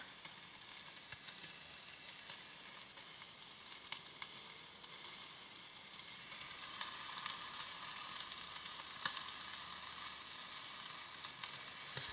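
Food beginning to cook inside a Pressure King Pro electric pressure cooker, a faint steady sizzle and hiss with occasional small ticks, quiet and continuous throughout.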